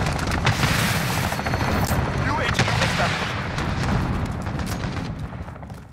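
In Call of Duty Modern Warfare, on the Harbour map, a dense, loud barrage of rapid gunfire and booming blasts runs continuously, with game voice chatter mixed underneath.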